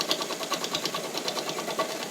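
A restored vintage Universal brand zigzag sewing machine, made in Japan, stitches steadily through fabric, its needle chattering in a fast, even mechanical rhythm, close and alone without talk.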